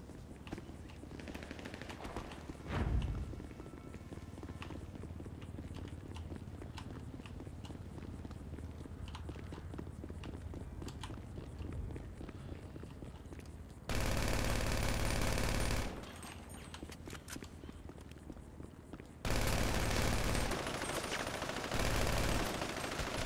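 Gunfire in GTA Online rattles through a long stretch of steady in-game noise, with two loud, sustained bursts of rapid automatic fire near the end and a brief thump early on.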